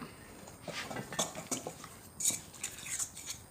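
Metal utensil clinks and scrapes against a bowl as an olive oil marinade for souvlaki is mixed outdoors by a fire pit, a quiet irregular series of taps and stirs with no talk.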